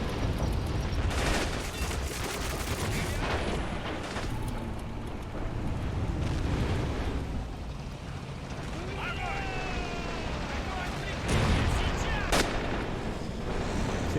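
Dense artillery fire and gunfire from a World War II battle in the video game Men of War: Assault Squad 2, a continuous roar of booms, blasts and mechanical clatter that stays loud throughout, with rumbling explosions overlapping one another.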